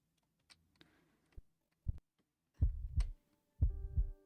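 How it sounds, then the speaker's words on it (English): A heartbeat sound effect for a podcast edit comes in as isolated soft thumps that build into loud, deep lub-dub pairs, close and clear with no voices. "Because I can do the same little heartbeat moment that I had before."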